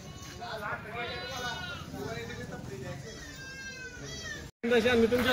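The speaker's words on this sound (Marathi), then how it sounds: "मित्रांनो आता मेंढ्या आहेत. टोटल 15 मेंढ्या आल्या." Several Kathiawari sheep bleat in overlapping, wavering cries at a livestock market, close and persistent, with people talking underneath.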